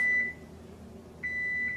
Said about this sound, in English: the timer's just now going off